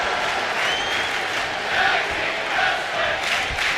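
Arena crowd in the WWE 2K25 wrestling video game roars and cheers continuously during a SmackDown tag team main event, a dense sustained wash of noise with swelling peaks.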